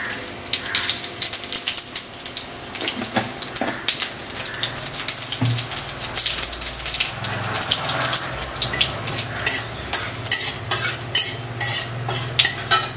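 White cumin seeds sizzling in hot oil while being stirred: soft frying hiss broken by scraping stirs and a growing run of sharp clicks and crackles toward the end, close and without talking.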